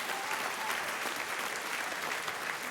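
Steady audience applause from a room full of people, a dense continuous patter of clapping at moderate volume with no voices over it.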